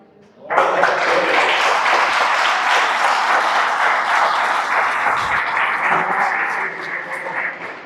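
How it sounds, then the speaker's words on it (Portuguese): A congregation applauds God during a church service, a loud, sustained wash of clapping that swells in and holds steady for several seconds before easing slightly at the end. "Já era para a gente estar aplaudindo a Deus"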